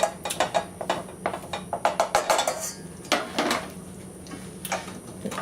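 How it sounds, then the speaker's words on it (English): Cooked rice for risotto alla Milanese tipped back into a pan, heard as a close run of metallic clinks, taps and scrapes of spoon against the pan. "So we're going to put this rice back into the pan"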